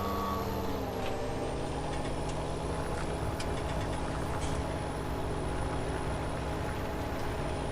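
Truck reversing in the Farming Simulator 17 video game, its engine drone steady and loud throughout with repeated beeping and a hiss of air brakes, no voices.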